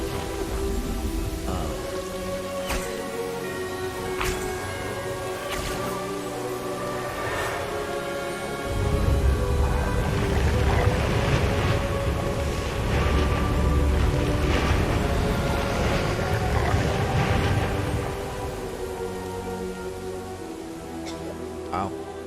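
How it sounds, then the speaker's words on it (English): Magically conjured rain in Hogwarts Legacy patters steadily over a tonal musical bed, swelling into a heavier downpour midway before easing off again. "He made it rain."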